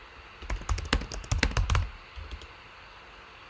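A burst of rapid keystrokes on a computer keyboard, entered into an answer box, clatters close and clear for under two seconds before fading to quiet room tone.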